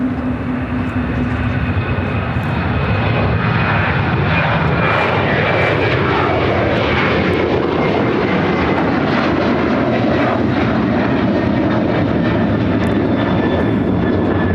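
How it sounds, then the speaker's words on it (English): A United Airlines Boeing 737-900ER jet roars steadily on its takeoff run at Chicago O'Hare, its loud, broad engine thrust filling the air without a break throughout. "United Airlines 1882 taking off to Denver on the 737-900ER"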